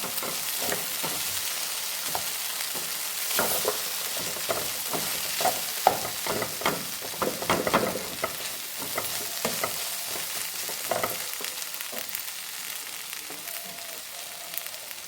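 Crushed garlic hits hot oil with already cooked vegetables in a pan, making a steady, close crackling sizzle with scattered clicks and scrapes from stirring throughout.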